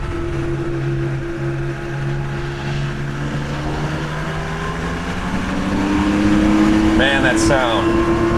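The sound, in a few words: air-cooled Porsche 911 engine while driving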